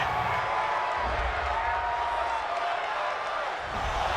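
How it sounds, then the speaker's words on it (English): In a Madden NFL simulation game, a stadium crowd reacts loudly to a roughing-the-passer penalty call, a thick, sustained roar of voices that dips only briefly near the end. "this crowd does not like that call"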